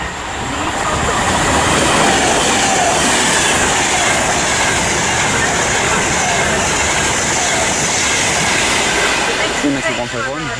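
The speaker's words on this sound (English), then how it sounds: "passing through now is a Virgin train service to Birmingham New" A Virgin train service to Birmingham New Street rushes through Watford Junction on the West Coast Main Line, a loud sustained roar of wheels and carriages with rail squeal, then fading at the end; a voice talks over it.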